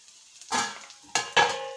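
Garlic and tomato paste frying in a pan for Telugu fish curry (chepala pulusu), heard as a few close bursts of sizzling with stirring scrapes, loudest as each addition hits the hot oil. No one speaks.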